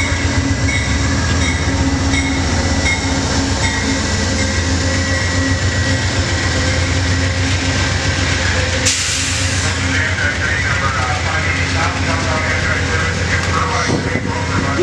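A passenger train led by a locomotive with a large horn rolls past on a coastal line at San Clemente, a loud continuous rumble and rail roar with a sharp change partway through, heard outdoors up close.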